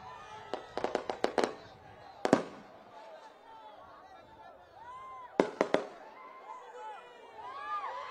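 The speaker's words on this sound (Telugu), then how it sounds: "టపాసులు ఆపండి రా బాబు" Firecrackers burst in quick sharp clusters during a public political rally, loud volleys followed by a pause and another close burst, with crowd noise and scattered voices in between.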